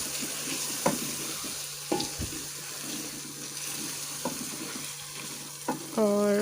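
Carrots stir and fry in a pan for a dhaba-style mixed vegetable dish of potato, peas and carrot, with a steady sizzle, occasional spoon knocks and a brief burst of running water near the end.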